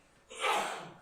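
A single sneeze, brief and moderately close, rises sharply out of a quiet courtroom and fades over about half a second.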